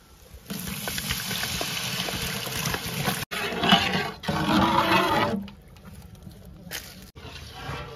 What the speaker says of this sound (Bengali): এবার দিয়ে দেবো আমরা জল।